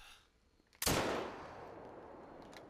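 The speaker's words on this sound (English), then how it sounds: "And that shot smoked that one." A single rifle shot fired while hunting crocodiles in the video game Call of the Wild, a sharp loud crack followed by a long decaying echo, alone with no voices.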